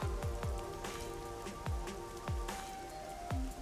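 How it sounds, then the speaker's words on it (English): Rain falls steadily in the video game Rain Code, with a dense patter and distinct heavy drops landing at irregular intervals, fairly close and alone without voices. "makes sense if it's always raining"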